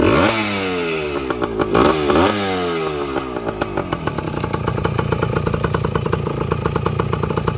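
A 1975 Yamaha Enduro 125 motorcycle engine revs up and down in rising and falling sweeps, then settles into a steady, busy running beat, loud and close with no talk.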